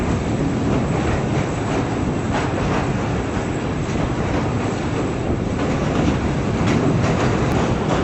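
Passenger train on the Karachi–Lahore line rolling over the single-track Mehran Bridge across the Indus River, a continuous loud broadband rumble of wheels and carriages heard from inside, steady throughout with faint rhythmic clatter.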